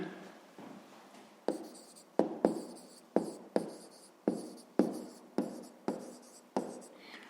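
Pen strokes scratch across paper while a Ukrainian fifth-grade math exercise is written out by hand, a faint, close series of about a dozen short, rhythmic scrapes with quiet room tone between.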